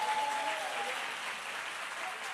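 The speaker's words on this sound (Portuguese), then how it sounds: "Vamos dar um aplauso?" Women at a church conference gathering give a round of applause, soft and fairly distant, a continuous patter of many hands with a brief faint tone near the start.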